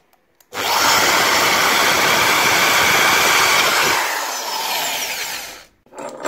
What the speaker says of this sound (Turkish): matkapla deliyorum